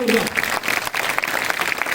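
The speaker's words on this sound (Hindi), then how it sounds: "एक बार अपने लिए ताली बजा" A group of children claps for themselves during a quiz about the Ramayana, a burst of close, dense hand claps mixed with voices talking over it throughout.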